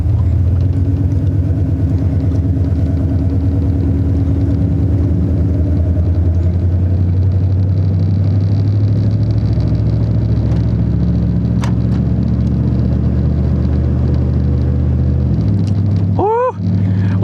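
A Dodge Ram 1500 pickup driving with a steady low engine rumble and road noise inside the cab; engine pitch climbs gradually, then drops noticeably as the transmission shifts gear near the end, followed by a brief squeaky rattle.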